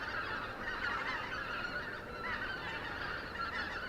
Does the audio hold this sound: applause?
no